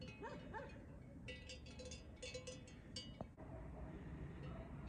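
A dog on a hillside near a sheep flock in Moieciu de Sus gives a few faint, distant yipping barks early on over quiet outdoor background noise.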